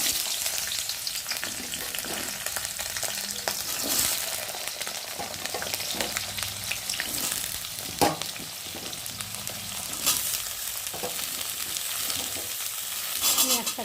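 Potatoes go into hot oil tempered with black cumin seeds in a home kitchen pan, giving a continuous close sizzle with occasional stirring knocks and scrapes and faint background voices.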